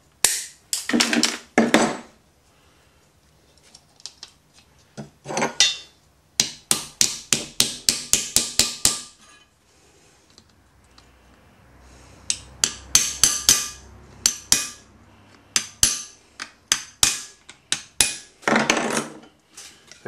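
Nails driven into wooden ribs by hand with a hammer: sharp, close, ringing blows in quick rhythmic runs, separated by short pauses and quieter gaps.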